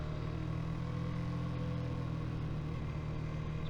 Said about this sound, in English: coming around this tight corner, and then accelerating out very easily